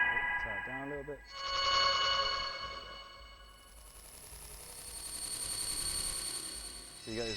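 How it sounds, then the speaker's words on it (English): Buzzer tones made by turning raw data into sound: sustained, bright, ringing electronic tones that swell and shift in pitch, with a person talking under them at the start and end. "So you get these buzzers coming through."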